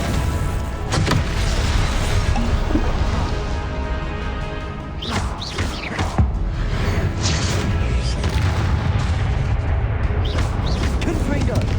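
Confringo fire-blast spells in Hogwarts Legacy, loud crackling bursts and booming impacts over continuous combat noise, with a voice casting spells throughout.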